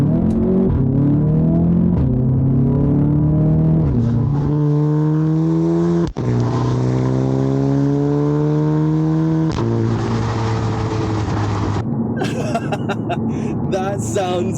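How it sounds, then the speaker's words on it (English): Modified Audi TT with an upgraded exhaust revving hard and accelerating through rising gear pulls, a loud close rumbling roar that drops in pitch at each shift, with brief crackles at the end. "That is such a better sound coming from the exhaust now"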